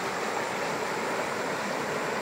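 A river flows in a steady, close broadband rush of running water, continuous and even, with no voices over it.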